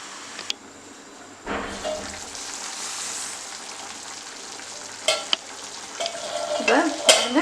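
Chicken for chicken chukka frying in a pan: a quiet start, then a steady close sizzle, punctuated by sharp utensil clicks and busier stirring and scraping that grows louder toward the end, with no talking.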